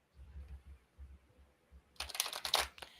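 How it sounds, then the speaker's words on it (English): A deck of oracle cards is shuffled up close, a quick crisp riffle of slapping and fluttering cards lasting about a second, after a stretch of quiet low thumps. "we're going to shuffle them 3 times"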